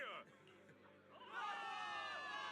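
A crowd of soldiers in the Zenless Zone Zero video game cheers, with the roar of voices swelling up in the second half after a brief lull.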